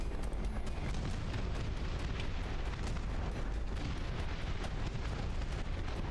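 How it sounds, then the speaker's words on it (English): Rockets fired from a BTR armoured vehicle in the Dust Front real-time strategy game, amid dense, continuous rumbling booms and explosions of battle that stay loud and unbroken throughout. "Firing rockets out of the BTR."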